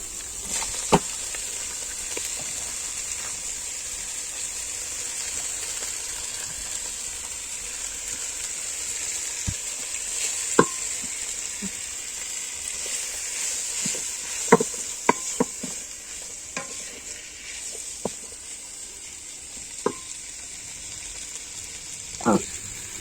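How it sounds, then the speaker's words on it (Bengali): Chowmein noodles frying in a pan at home, a soft continuous sizzle with scattered sharp clinks and scrapes of a utensil stirring against the pan, no one speaking. "এখন দিয়ে দিব ওই যে নুডলস মানে চাউমিন।"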